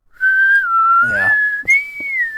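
A person whistles a wavering, sustained tune, close and clear, with a brief breathy break in the middle.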